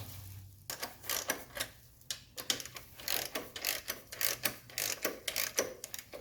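Metal nuts on the filter housing of a 1979 Mercedes 300SD diesel being snugged down by hand with a wrench, giving a steady run of close, quick ratcheting clicks with brief pauses and no talk.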